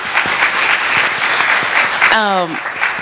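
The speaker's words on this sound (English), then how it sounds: "Yes, that's worth clapping." A community fireside chat audience breaks into sustained applause, a thick, even clatter of many hands near and loud, with a brief voice rising over it near the end.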